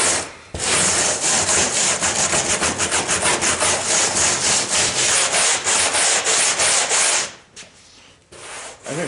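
A plastic stripper disc worked by hand across a fiberglass-backed truck headliner gives a steady, rapid back-and-forth scrubbing rasp, close and loud, running for about seven seconds before pausing and resuming briefly.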